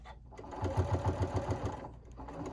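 A sewing machine stitching a fabric market tote bag, a short close burst of rapid even mechanical needle thumps that starts and stops, with a voice faintly around it.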